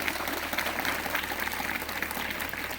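Students at Gram Vikas School applauding during a motivational talk, a continuous crowd of clapping hands at moderate distance, even and sustained across the whole stretch.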